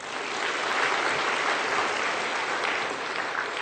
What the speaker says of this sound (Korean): 박수 했어요. 박수.